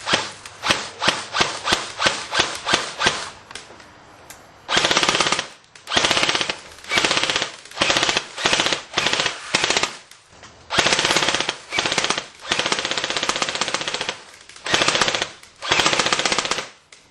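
A Classic Army Sportline M15A4 airsoft rifle fires BBs in a string of quick single shots, then in loud full-auto bursts of varying length separated by short pauses.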